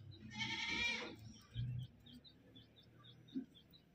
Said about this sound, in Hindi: और ये बकरी का बच्चा है